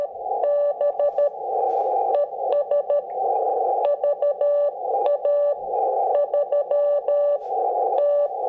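Morse code CW tones from the internal speaker of a QRP ham radio transceiver (Xiegu G90 or BG2FX FX-4CR), with a strong, steady beeping of dits and dahs repeating in clear keyed bursts over a quiet background.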